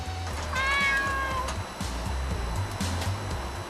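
A mother cat perched on a roof gives one clear, drawn-out meow close by, followed by quieter rustling and faint outdoor background noise.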